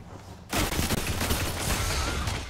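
After a quiet moment, sustained loud automatic gunfire breaks out in a Destiny player-versus-player match, a dense unbroken stream of shots close to the listener.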